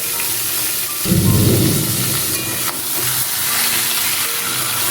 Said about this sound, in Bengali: মশলাটা কিছুক্ষণ কষানোর পর এর মধ্যে দিয়ে রাখা জল ঝরানো চিকেনটা দিয়ে দিচ্ছি